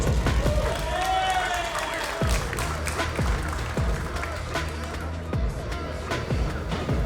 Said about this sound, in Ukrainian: Оплески Ігору